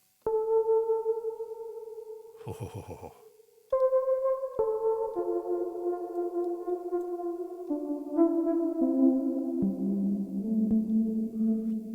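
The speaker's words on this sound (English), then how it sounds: "another really, really insane reverb that does all sorts of strange stuff" Sustained synthetic tones slide between pitches with long, smeared reverb tails from a reverb effect unit, interrupted once by a rapid fluttering burst; no voices.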